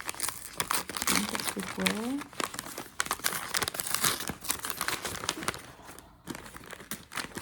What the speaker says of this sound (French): J'ouvre le paquet automne que j'aurais dû ouvrir il y a des plombes.